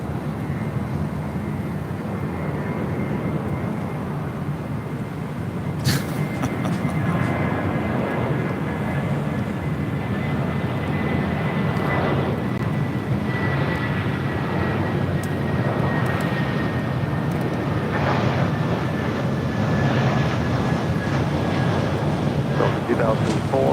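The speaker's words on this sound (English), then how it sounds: "Right up next is the Delta A319." A Delta Airbus A319 arriving at LAX from Denver makes a sustained jet engine roar with a thin high whine gliding across, some wind buffeting, and brief sharp clicks, holding steady throughout.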